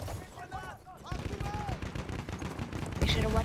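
Dense video-game gunfire rattles in rapid bursts with shouted voices and battle noise, loud and continuous throughout, growing heavier near the end.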